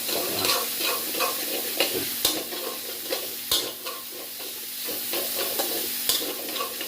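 Dry pork being stir-fried in a pan for Thai basil stir-fry, a steady sizzle with repeated scraping strokes of the spatula at a regular pace, close and fairly loud, with no talking.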